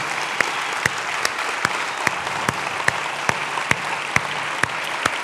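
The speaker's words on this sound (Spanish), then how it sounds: "Pónganse de pie y den un aplauso al Señor así bien fuerte" Standing church congregation applauding the Lord loudly, a thick, sustained roar of clapping with sharp regular hand strikes or beats punching through at a steady rhythm.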